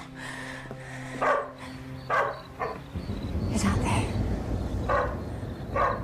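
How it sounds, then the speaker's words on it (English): A dog barks outside in five or six short, separated barks spread across several seconds, moderately loud, with brief speech and background noise around them. "that's a dog barking"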